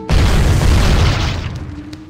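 A loud, abrupt explosion from the horror video game The Suffering hits with a sharp onset, then a dense rumbling roar that slowly fades over about two seconds.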